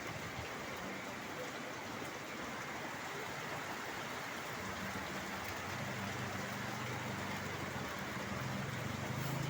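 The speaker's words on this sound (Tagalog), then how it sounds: "ngayong gabi, malakas ang ulan" Heavy rain falling at night near a parish house in the Philippines during a blessing of scapulars, a steady dense wash of drops heard alone, unbroken and fairly faint throughout.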